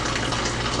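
Homemade laundry soap poured slowly into an Xtra bottle gives a steady, close liquid gush with a continuous, even wash of sound and no voices.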